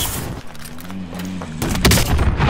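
Warzone gunfire cracks in loud bursts, with a burst of shots near the start and a heavier volley in the final second, set against a low game drone.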